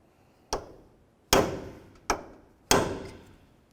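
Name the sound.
hammer and punch peening axle nut into slot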